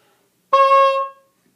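A single baroque oboe note begins with wind and tongue hitting the reed at once, giving an abrupt, pitch-unstable attack. The bright, reedy tone sounds alone and close for about half a second before cutting off into silence.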